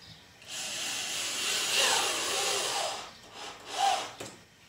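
Drill driving one-and-a-quarter-inch deck screws into wood while building a honey bee swarm trap, a sustained close whirring run lasting a couple of seconds followed by a shorter burst.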